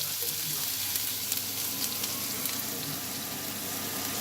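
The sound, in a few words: onion frying in oil for green beans curry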